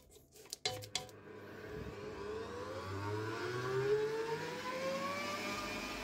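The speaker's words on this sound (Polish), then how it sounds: "Zaczynamy powoli, a potem szybko miksujemy na szybkich obrotach." Electric mixer beating butter with powdered sugar at high speed: a few clatters at the start, then a steady whirring motor that rises in pitch as it speeds up and holds, close and fairly loud, no talk.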